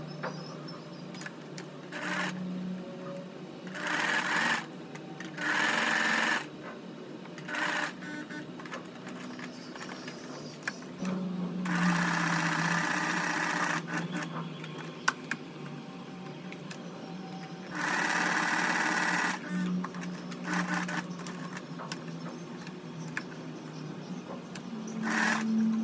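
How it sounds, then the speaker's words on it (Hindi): An electric sewing machine stitches a kurti in bursts, several loud runs of a steady whirring hum separated by quieter pauses, close by and with no talk over it. "इस तरह से स्टिच करेंगे।"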